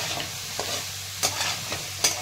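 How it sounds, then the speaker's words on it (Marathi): Chopped onion sautés in hot oil in a pan for egg bhurji, a soft steady frying hiss broken by a few sharp stirring scrapes of a spoon against the pan, close and moderately quiet. "कट करून झालेला आहे तर आता एक छान परतून घेत आहे."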